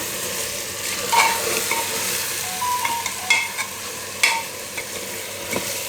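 Pav bhaji cooking in an open pressure cooker, stirred with a spoon: a soft, continuous bubbling sizzle with intermittent scraping clinks of metal against the cooker, close up and alone without voices.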